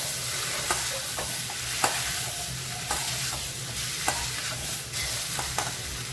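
Chilli powder being mixed into food in a pan, a steady sizzle with a scraping stir that clicks and knocks roughly once a second, close and continuous.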